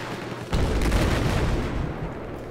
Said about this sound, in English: Watch out. I hear those snipers.